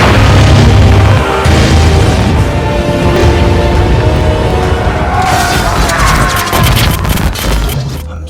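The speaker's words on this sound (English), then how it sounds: "I wonder how many of these explosions are practical." Loud booming explosions and crashing blasts from the film Dune (2021) fill the scene, dense and continuous, with a heavy burst of debris near the end.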